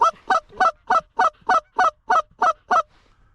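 Canada geese honk ten times in a steady, evenly spaced series, loud and close, during a goose hunt in North Dakota, with near silence between the calls.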